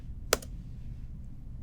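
A single quick keystroke on a computer keyboard while entering a terminal command, a close, crisp click in an otherwise quiet room.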